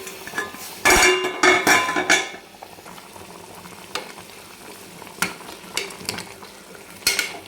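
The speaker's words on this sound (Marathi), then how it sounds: "छान मिक्स करून घ्यायचं." A spoon stirs mutton curry in a metal pot over heat, giving scraping clanks in a quick cluster, then scattered knocks against the pot over a soft sizzle.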